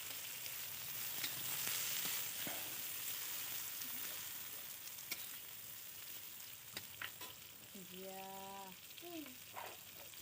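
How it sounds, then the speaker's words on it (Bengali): Chopped onions fry in hot oil in a large wok, a steady close sizzle crackling throughout while being stirred, with a few scraping knocks and a short tonal squeak near the end. "ভালো করে নাড়াচাড়া করে পেঁয়াজটাকে ভেজে নেব।"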